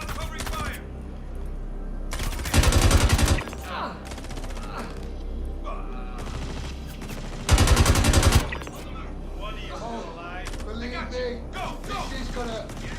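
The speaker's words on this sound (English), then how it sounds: "Laying down covering fire!" Two loud bursts of rapid automatic covering gunfire in the Star Citizen video game, each lasting about a second, with people talking between and around the volleys.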